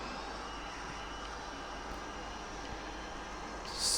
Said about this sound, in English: Slowly throttle up because this engine requires some care handling.